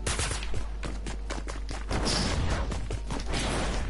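Rapid gunfire from Fortnite Save the World, a dense burst of repeated shots with whooshes and mechanical clatter, loud and continuous for several seconds with no talking.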